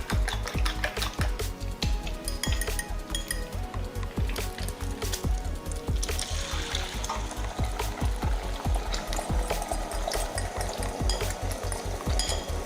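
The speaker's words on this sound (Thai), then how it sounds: "มาเจียวไข่กันก่อนเลยนะคะ" Beaten eggs frying in hot oil for a Thai-style omelette give off a dense, steady sizzle and crackle, with rhythmic low thumps and occasional clinks of a utensil against the pan, close and loud, with no one speaking.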